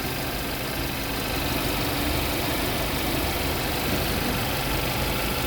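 A new Kia Seltos engine idles steadily during a new-car inspection, a continuous even hum with no voices, heard close up under the open hood.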